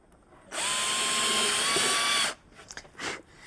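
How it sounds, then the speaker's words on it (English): A power drill bores a hole into wood during a simple wood-carving project, a steady loud whine lasting about two seconds, then stopping abruptly, followed by faint handling clatter. "it's very difficult to know how deep you're going when you're drilling into a hole"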